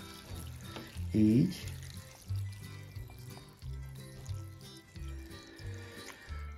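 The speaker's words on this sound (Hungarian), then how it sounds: "Most egy olyan művelet következik ezzel, hogy töltök rá vizet." Water poured from a tap onto elderflowers in a home kitchen for syrup, a soft uneven splashing and trickling heard close but quiet, with a brief spoken word near the start.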